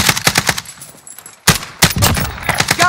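Rapid automatic gunfire from Call of Duty Warzone rattles in loud, tight bursts, pausing briefly before another heavy volley resumes, close and punchy throughout.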